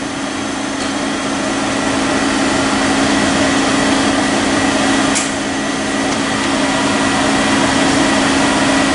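A Heckler Koch BA 40 vertical machining center spindle runs at 300 with a steady, loud whirring hum and constant motor drone, one faint tick near the middle.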